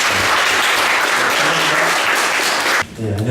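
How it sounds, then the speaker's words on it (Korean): Lecture-hall audience applauding to welcome a guest law professor, a dense steady roar of clapping that stops abruptly near the end, followed by a voice. "우리 조한상 선생님을 뜨거운 박수로 맞아주시기 바랍니다."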